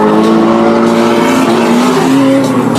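A Nissan S13 drift car drives past at a drifting festival, its engine roaring loud and close with a rising, sustained whine and tire noise over crowd ambience.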